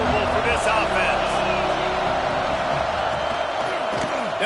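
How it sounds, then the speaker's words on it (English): Stadium crowd in a college football video game, a steady, dense roar that fills the whole stretch beneath continuous play-by-play commentary. "This crowd trying to make life miserable for this offense."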